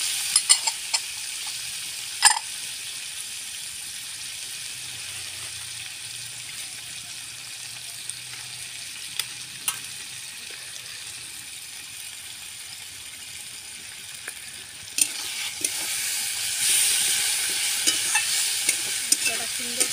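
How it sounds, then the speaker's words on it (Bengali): Spice masala sizzles in oil while being stirred, a soft continuous frying hiss broken by occasional sharp scrapes and knocks that grows louder and busier near the end. "মশলাটা সুন্দর করে কষা হয়ে যায়। এই যে তেল ছাড়ছে মশলাটায়"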